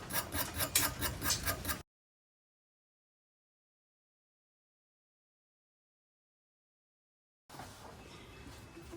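The radiator neck on a 1960 Cadillac limousine is scrubbed clean with rapid, rhythmic rasping strokes. The sound is close and steady, stops for several seconds, then resumes as a softer, continuous rubbing.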